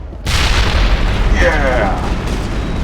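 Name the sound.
explosion in Mass Effect video game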